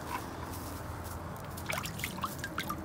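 A hand dipped into black, tar-like water in a pit lets liquid trickle and drip back, small drops plinking faintly over a steady outdoor hiss.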